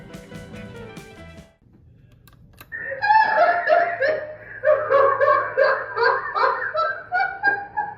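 Recorded cackling laugh of Laughing Sal, an early 1940s papier-mâché animatronic on a boardwalk in Ocean City, Maryland, bursting out in loud repeated rhythmic peals after a few seconds of quieter background noise.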